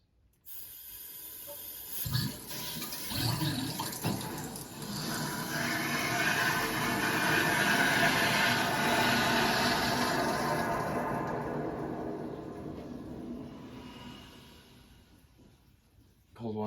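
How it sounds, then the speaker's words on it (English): Water rushes into newly installed PEX-A household plumbing pipes as a supply valve is cracked open for the first time. A steady, loud hissing flow swells and then gradually eases, with a clunk near the start and another at the end. "we're going to crack the handle for the first time and watch the pipes fill up"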